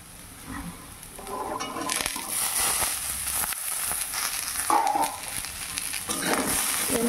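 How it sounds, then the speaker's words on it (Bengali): Potato pieces, cabbage stems and cauliflower florets sizzle and fry in a pan, with a steady crackling hiss broken by stirring scrapes and clatter, close and moderately loud. "আর এই তো আলুগুলো ভাজছি"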